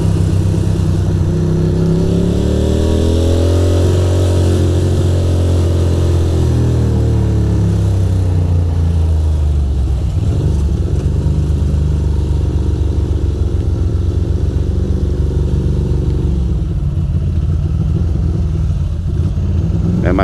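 Ducati motorcycle riding through fog and rain in Manhattan and Queens, its engine held at steady revs with a rising and falling drone, loud and close over constant wind and road noise.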